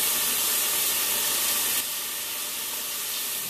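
Steady, dense sizzling hiss of potato wedges frying in hot oil, continuous and fairly close, dropping slightly in level partway through.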